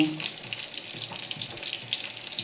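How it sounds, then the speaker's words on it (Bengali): Fish pakoras sizzle in mustard oil in a kadai over a low gas flame, giving a steady, fairly close hiss and crackle with no talking. "পকোড়াগুলোও সর্ষের তেলে ভাজছি"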